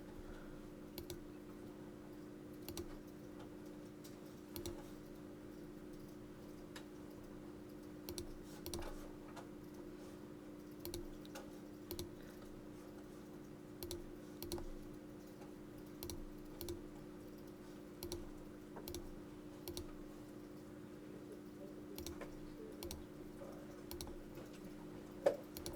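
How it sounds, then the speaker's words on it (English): A computer mouse clicks in Photoshop with faint, sparse, irregular ticks spread over a quiet steady electrical hum, close and soft, no talking. "Just clicking away."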